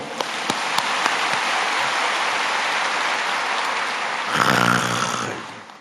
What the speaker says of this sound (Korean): 우리 한번 박수 한번 쳐주세요